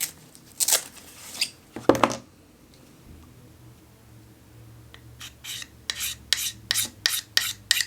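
Scraping the black coating off a ferro rod from an Ozark Trail camp kit, a few rasping strokes, a quiet gap, then a faster run of short, sharp scrapes, close up and without talk.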